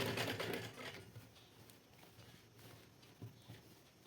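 A sewing machine stitches a blouse seam at a half-inch margin, with a faint rapid mechanical whir that is strongest at the start and then fades to a low, quiet hum.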